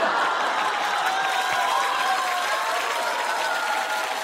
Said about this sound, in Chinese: 让我们再次把掌声送给这个不知死活的节目组